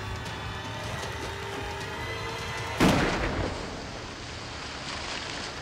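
A single loud gunshot rings out from a boat at an alligator in a swamp, cutting through the steady outboard and wind noise midway and then trailing off.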